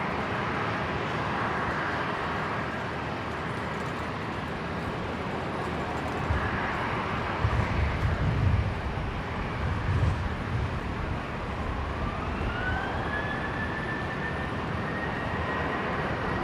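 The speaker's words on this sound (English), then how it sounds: "Runway 19 left, clear for takeoff, Qantas" A Qantas jet bound for Melbourne rolls for takeoff on runway 19 left at Brisbane International Airport, a steady loud engine roar building with a rising whine near the end, heard from a distance.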